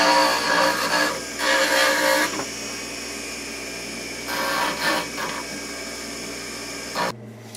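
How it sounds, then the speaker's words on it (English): A dental burr on a handpiece smooths the surface of an in-house surgical guide, a high-pitched whining grind that runs in several bursts, strongest early and again near the middle, with quieter buzzing between. "I take some burrs just to start to smooth this off"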